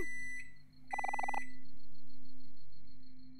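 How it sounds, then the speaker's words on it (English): A microwave in the video game Omori beeps, a quick run of bright electronic tones over a steady synthetic hum, clear and close with no talking. "that actually beeped like my real microwave does"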